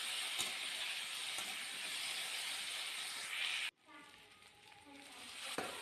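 Malabar spinach stems and potatoes sizzling in hot oil in an uncovered pan, a loud continuous hiss that drops sharply partway through to a quieter sputter.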